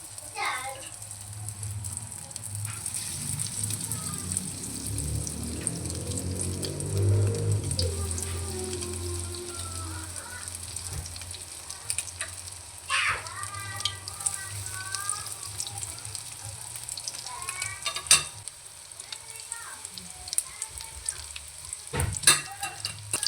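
Crab stick seaweed rolls fry in oil in a pan, a steady soft sizzle with occasional stirring clinks and scrapes, while a person talks over the cooking.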